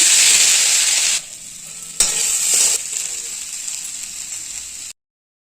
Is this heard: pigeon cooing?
no